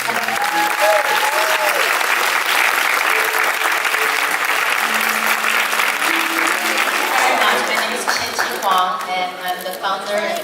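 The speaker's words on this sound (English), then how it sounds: "Let's give her a round of applause." An audience at a benefit fashion show breaks into loud, sustained applause, dense and steady throughout, with a few voices and cheers mixed into the clapping.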